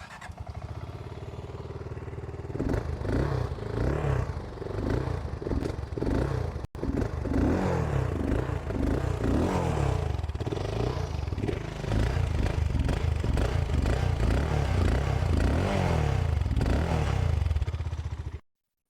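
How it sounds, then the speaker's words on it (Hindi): A BSA Goldstar 650 single-cylinder motorcycle runs and revs on a track, its exhaust note loud and close with a thumping, rising and falling engine sound that carries on steadily before cutting off. "एक बार आपको इसका एग्जॉस्ट नोट भी सुनाते हैं"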